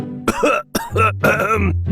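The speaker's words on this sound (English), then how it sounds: "dad started coughing, clutching his chest like a dying man" Several harsh, close coughs in quick succession, raspy and strained, with short gaps between bursts.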